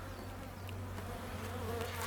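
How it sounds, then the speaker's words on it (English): Honey bees buzz steadily around an open brown hive during an inspection, a close, continuous drone with no voices over it. "I can see lots of bees."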